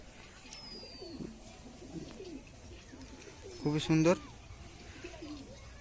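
A black Nazra pigeon gives one short, clear coo partway through, close and louder than the quiet background, while someone speaks briefly nearby.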